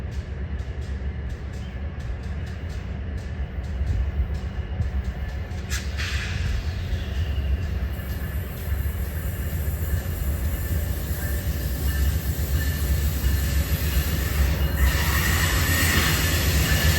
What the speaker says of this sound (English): And this passenger train is also eastbound, so we're heading toward Toronto.